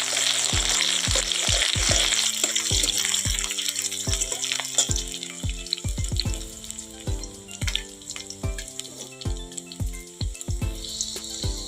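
Chopped onion sizzles in hot oil in a wok, a constant bright hiss running under rhythmic, tonal music-like beats that pulse throughout.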